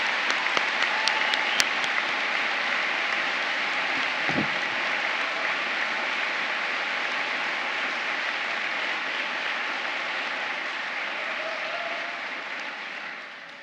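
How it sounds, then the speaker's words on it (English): A large audience at a university degree ceremony in the Barbican Centre, London applauds in a steady, even wash of many hands clapping, slowly fading toward the end. "So can we have a round of applause for all the people that help do that?"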